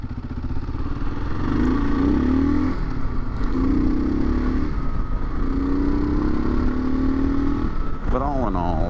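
A 2018 Kawasaki KLR650 on a loud front tire cruises along Skyline Drive with a steady engine drone and road roar. The engine pitch rises and falls several times under constant wind noise, with a brief wavering tone near the end.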